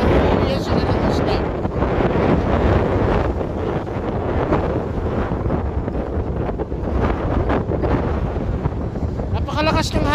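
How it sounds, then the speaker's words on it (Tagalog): Strong wind by a rough sea in Llandudno buffets the microphone in a constant loud roar, with a voice faintly heard beneath the gusts. "Napakalakas ng hangin"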